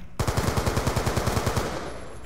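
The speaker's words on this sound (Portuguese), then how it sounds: "Uns trilhão de tiro pra matar o cara" Rapid automatic gunfire from a weapon in Black Ops 2, a steady burst of about twenty evenly spaced shots, loud and close, tapering into a fading tail.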